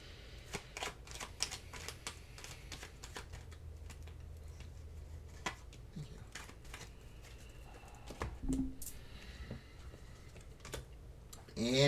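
Oracle cards are shuffled by hand in a quiet room, a run of soft, irregular taps and riffling clicks at close range, fairly faint, with a brief voice near the end.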